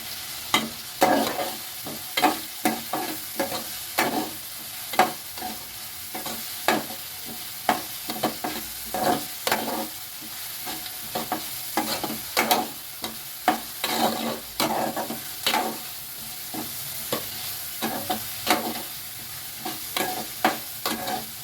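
Egg noodles with red chilli stir-fried in a pan, a steady sizzle broken by regular scraping strokes of the spatula, close and fairly loud, with no voices.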